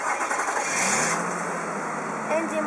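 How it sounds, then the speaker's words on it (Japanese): A Mazda MPV (LW5W) engine cranks and settles into a steady idle, with a voice speaking over it. "エンジンをかけてみます"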